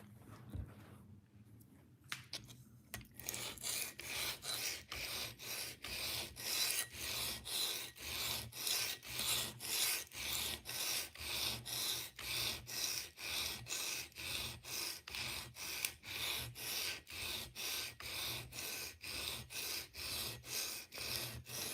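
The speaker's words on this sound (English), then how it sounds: "I am using my hand sharpener to sharpen a few knives here today at the house" Knives drawn through a hand sharpener at home, a steady series of rhythmic rasping strokes, close and crisp, repeating roughly once per half second after a short quiet start.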